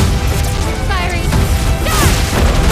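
A ship's cannon fires in the video game Clair Obscur: Expedition 33, a loud crashing blast with whooshing debris, followed by a second impact, with voices mixed in.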